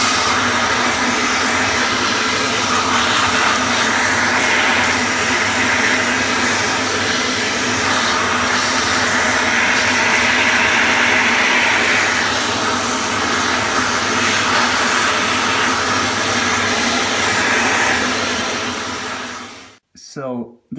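A steady, loud vacuum cleaner whooshes continuously while cleaning handmade rocks for an HO scale model train layout, then cuts off abruptly near the end.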